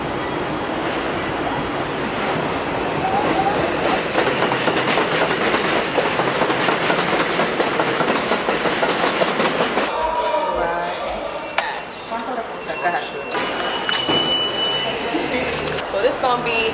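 A New York City 4 subway train rumbles past close by in the Bronx with clattering wheels and metallic squeals, loud for several seconds before easing, with someone talking over the noise.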